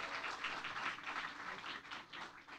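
A seminar audience gives a round of applause for the speaker and moderator, a soft, dense patter of many hands clapping, fairly distant and even throughout.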